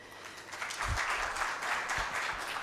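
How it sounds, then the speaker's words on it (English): Applause from a conference audience greeting the guest of honor, the chairman of the Pakistan Telecommunications Authority, a steady wash of many hands clapping at moderate, fairly distant volume. "the volume of applause must reflect how many people are in this audience"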